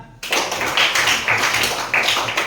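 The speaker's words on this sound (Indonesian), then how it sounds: "Kasih tepuk tangan." A short burst of clapping from a group, starting abruptly and continuing evenly for a couple of seconds.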